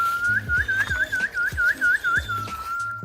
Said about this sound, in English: has whistled to call the smartest bird species on the island